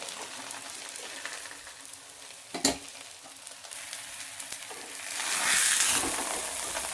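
Ragi dough flattened in a pan with a little ghee, sizzling steadily under stirring and scraping sounds, with one sharp knock partway through and a louder burst of frying near the end.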